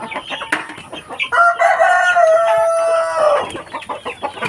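Native chickens on a provincial farm, with a long rooster crow standing out clearly in the middle and scattered clucks before and after it, all close by.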